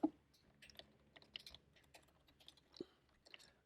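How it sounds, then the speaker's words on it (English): Quiet keystrokes on a computer keyboard as the word affinity is typed, a sparse run of soft clicks with a sharper tap at the start and another near the end, no voices. "I'm going to delete that and type affinity again."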